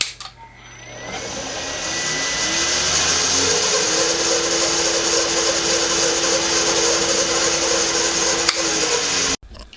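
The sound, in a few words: drilling a hole with 3mm drill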